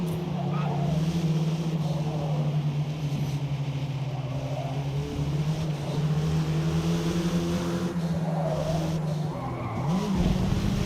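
Racing coupe in the Forza Motorsport video game, with a steady droning engine note held throughout and tire skid noise, loud and continuous with no talk over it.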